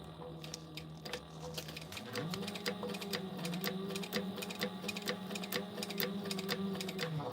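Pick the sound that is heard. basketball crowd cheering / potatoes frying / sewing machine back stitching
sewing machine back stitching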